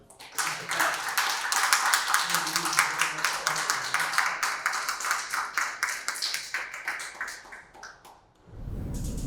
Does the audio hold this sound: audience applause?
yes